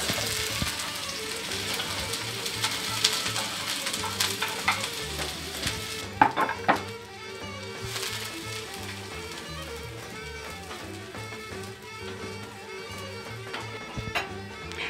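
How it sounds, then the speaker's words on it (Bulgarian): Onion fries in hot fat in a pan, a continuous crackling sizzle with scattered pops and a few stirring scrapes, close and steady throughout, with no talk over it. "Лука готов ли е? Да, лука е готов. Слагаме го в тигана."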